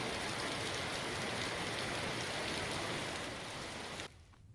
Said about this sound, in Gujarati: મેઘમહેર થઈ રહી છે